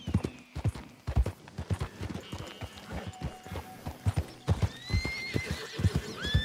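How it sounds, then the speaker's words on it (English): Wild horses in the Red Dead Redemption video game: rhythmic hoofbeats clip-clop nearby while high, wavering neighs and whinnies ring out toward the end, over a faint outdoor ambience. "Got some wild horses over there, it looks like"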